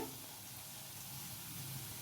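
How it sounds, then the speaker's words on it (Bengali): Paneer samosas fry slowly in hot oil in a kadai, giving a steady, moderate sizzle with soft bubbling that holds evenly throughout, with no voices. "আমি কড়াইয়ে সিঙ্গাড়াগুলো দিয়ে ভেজে নিচ্ছি আস্তে আস্তে"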